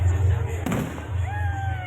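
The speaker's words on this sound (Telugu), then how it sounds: "అవి అలా విచ్చుకుని తిరిగి టపాసులు పేలుతున్నాయండి." Firecrackers bursting at a temple festival, a single sharp pop standing out over a steady low hum of crowd and music, with faint whistling tones afterward.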